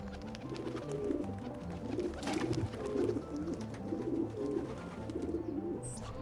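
Several pigeons coo in soft, repeating phrases over a steady low background hum in the game Assassin's Creed II, one murmuring call following another at a close, even volume.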